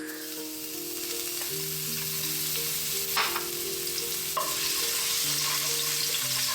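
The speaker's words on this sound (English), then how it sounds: "Now, I'll add oil to the pan. Our first step is garlic." Garlic frying in hot oil in a pan: a steady, close sizzle runs throughout, with a couple of brief sharper crackles and no talking.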